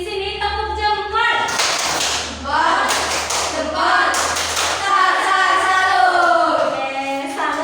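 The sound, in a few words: class doing a "tepuk jempol" thumb-clap routine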